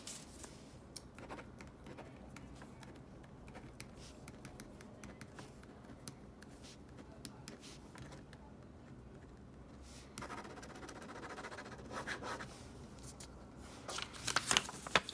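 A PaperMate InkJoy gel pen writes on paper in a steady run of close, soft scratching strokes, with brief louder scrapes near the end and no talking.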